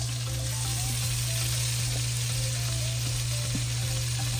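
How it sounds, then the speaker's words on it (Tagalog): Garlic and onion sauté in butter in a hot pan, with a dense, constant sizzle and crackle over a steady low hum and no speech. "igigisa po natin sa butter"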